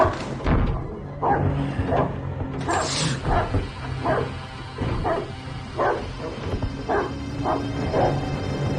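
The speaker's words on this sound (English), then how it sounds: "the lock opens and the dog starts barking" A dog barks repeatedly and loudly nearby as a lock opens, sharp woofs coming in a steady, insistent rhythm over a low background rumble.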